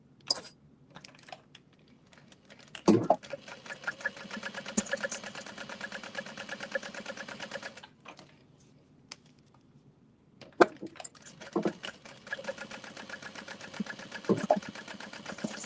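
A sewing machine runs in quiet bursts while top stitching a Rosie Sling bag, its rapid needle chatter stopping and starting with short pauses and a few louder clicks between runs.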